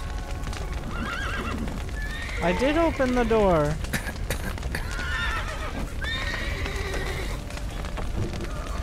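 Horses in the Witcher 3 video game whinny sharply, with clip-clopping hooves close by, while a player talks over the sounds.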